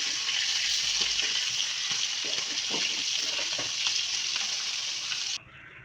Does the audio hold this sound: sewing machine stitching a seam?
no